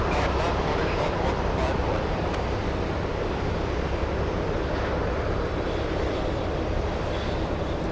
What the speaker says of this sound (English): We have the Irish A330. This one's a possible takeoff on Niner, runway 9.